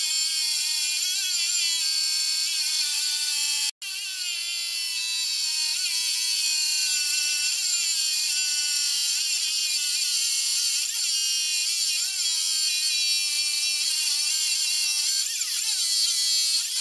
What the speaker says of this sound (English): It's a diamond wheel dresser for just dressing a grinder wheel.